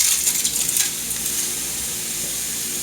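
Quartered strawberries tumbling into a hot pan over medium-high heat for strawberry jam, a burst of soft sizzling and clattering in the first second that settles into a steady, even hiss.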